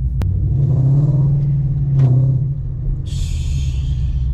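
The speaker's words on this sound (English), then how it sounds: "I gotta let my car warm up" A car engine idles steadily while warming up, with a low, constant rumble, close by, and a brief hiss near the end.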